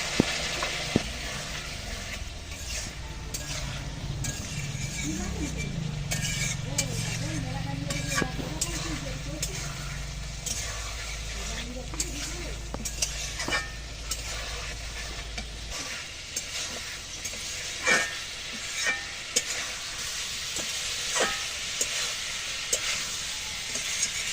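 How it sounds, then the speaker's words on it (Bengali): Soybean and potato curry is stirred in a pan after a splash of hot water, a continuous low sizzle and hiss with scattered spatula scrapes and clicks, while a voice talks in the background for part of the stretch. "আমি আর একটু গরম জল দেবো এখান থেকে, জলটা দিয়েও ভালো করে কষাবো।"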